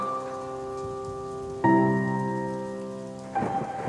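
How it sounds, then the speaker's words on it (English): A rain foley sample with rumbling thunder plays as a steady hiss beneath sustained synth chords in an Ableton Live bass music track, with the chords shifting twice. "is that rain Foley in the background?"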